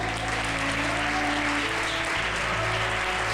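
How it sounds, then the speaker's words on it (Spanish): A church congregation applauds during a Spanish-language sermon, a dense wash of clapping over a low sustained hum or organ-like tone, steady and full with no clear voices. "Denle un fuerte aplauso al Señor."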